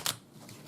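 Flimsy, lightweight manga-style tarot cards give a brief riffling, crackly flutter at the start, then soft papery rustling, heard up close and fairly quiet.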